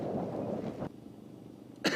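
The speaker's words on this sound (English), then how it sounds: "there's me coughing some more" A person coughs hard in a couple of rough bursts, one long fit followed by a short sharp cough after a quieter gap, heard close against a faint windy background.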